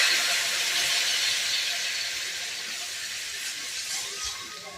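Water poured into a pan of rui fish curry with potatoes and Malabar spinach, a steady broadband hiss and splash that holds for several seconds and slowly eases, with no talking.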